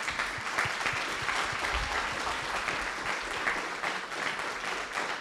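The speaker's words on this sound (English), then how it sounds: "That deserves a clap." A room of attendees at a county drug summit breaks into sustained applause, a full continuous patter of clapping at moderate distance that holds evenly for several seconds.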